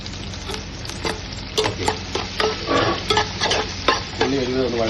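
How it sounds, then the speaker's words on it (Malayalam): Curry leaves hitting hot oil in a pan, a loud continuous crackling sizzle with sharp spattering pops bursting repeatedly throughout, close and with no talk. "കുറച്ച് കരിവേപ്പിലയും കൂടെ അതിനകത്ത് ആഡ് ചെയ്യുക."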